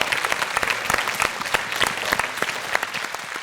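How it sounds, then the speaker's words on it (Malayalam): Studio audience on a Malayalam children's television show applauds steadily, a dense wash of many hands clapping at even loudness throughout, with no voices over it. "നല്ലൊരു ക്ലാപ്പ് എല്ലാവരും"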